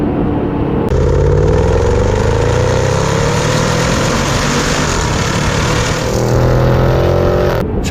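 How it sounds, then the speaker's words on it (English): A 2020 Range Rover Sport SVR accelerating, its exhaust giving a loud, continuous engine roar that climbs steadily in pitch through a gear, captured close from the rear hatch, with no speech. "I'm trying to get some exhaust burble there."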